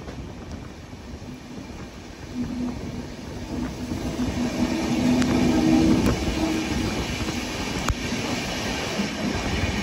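Mumbai LTT to Kakinada Port Express running through monsoon country near Lonavala, Maharashtra: a steady rumble of wheels on rails that swells midway, with faint squeal and occasional clicks, heard close from inside the train with no talk.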